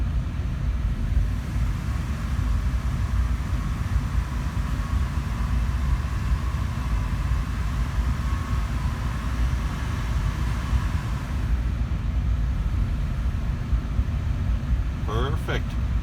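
A 2005 GMC Envoy's 4.2L engine runs steadily at close range, a broad low rumble with a constant fan whir layered on top, while someone talks over it.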